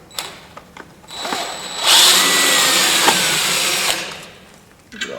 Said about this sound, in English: So we're just going to use these here that I ordered to screw the boards down with.